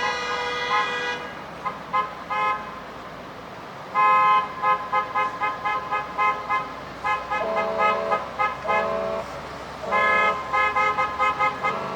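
Large vehicles arriving in a convoy in Petersburg, Alaska sound repeated loud horn toots, short blasts and longer held honks, some overlapping, throughout the clip with engine rumble beneath.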